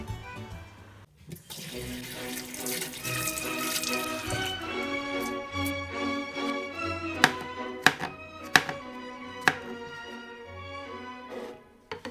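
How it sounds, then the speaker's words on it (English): Mushrooms are rinsed under a running kitchen tap, the water hissing steadily for several seconds before stopping, followed by a handful of sharp knife chops on a board, spaced out and crisp. "now we're gonna rinse and chop the mushrooms"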